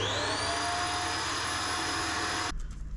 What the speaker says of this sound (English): Hoover off the excess.